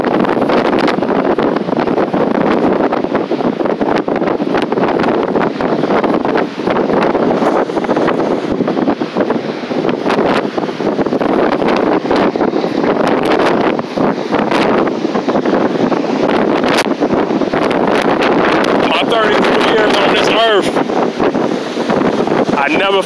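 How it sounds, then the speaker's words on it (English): Very strong wind roars steadily at Manhattan Beach, California, buffeting the microphone with a loud, continuous rumble, and surf can be heard faintly underneath. "no wind like this from the beach in all my years"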